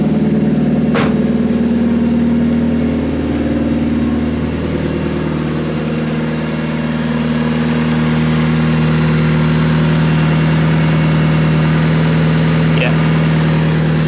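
Old car engine idling with the radiator fan spinning, a loud steady close-up hum and drone that holds even throughout, with a sharp click near the start.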